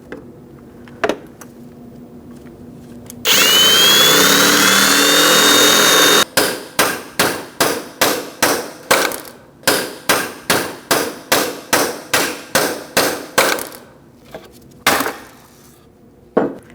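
Rivets drilled and knocked out of a window regulator inside the door of a 2008-2014 Mercedes-Benz C300: a sustained high whine of drilling for about three seconds, then a long run of sharp, evenly spaced metallic taps, loud and close, with no talking.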